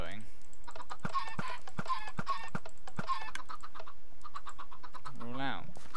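Minecraft chickens cluck in short pitched bursts mixed with rapid keyboard clicking, and a voice speaks over the game sounds.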